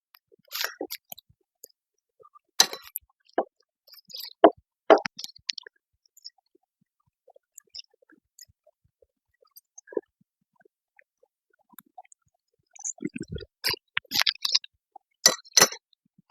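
Someone eating homemade rotisserie chicken noodle soup, with sparse close chewing, soft slurps and a few spoon clinks against a bowl in short bursts separated by quiet pauses.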